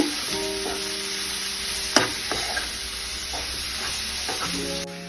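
Cooked drumstick leaves are stir-fried with onion, garlic and salt in a pan, giving a steady sizzle with scraping stir strokes, a sharp clink near the two-second mark and a faint tonal hum behind.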